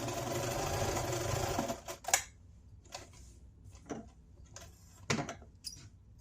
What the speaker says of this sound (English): then we're going to sew all the way across